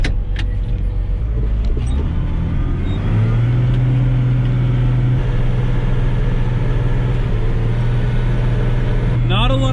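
A farm tractor rolls out onto a gravel road after its three-point hitch is locked up and four-wheel drive is switched off, its engine droning steadily up close and rising in pitch as it pulls away.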